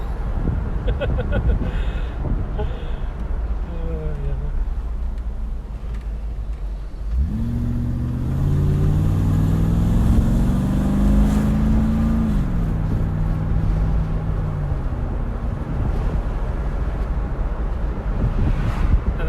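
A Mercedes-Benz G55 AMG engine roars, climbing in pitch as it revs to 3,500 RPM, holding high, then dropping, with heavy wind rumble throughout.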